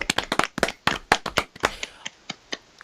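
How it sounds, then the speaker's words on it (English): Light, sparse golf clapping from a small group, a couple of dozen soft claps at an uneven rhythm that thin out toward the end, with no talk over them. "Golf clap."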